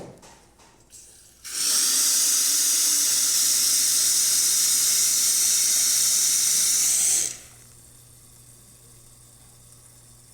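Hot water spouts from a Lelit Bianca V3 espresso machine in a loud, steady rushing hiss lasting about six seconds, then cuts off abruptly, leaving a faint hum; recorded close up, no voices.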